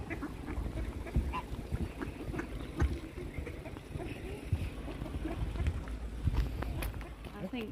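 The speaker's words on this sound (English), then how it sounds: "Ang daming geese." Geese honking and quacking outdoors over Kinghorn Loch, Scotland, scattered calls near and far, with wind, lapping water and people talking throughout.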